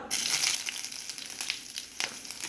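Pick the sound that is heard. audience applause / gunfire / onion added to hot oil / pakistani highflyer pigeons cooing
onion added to hot oil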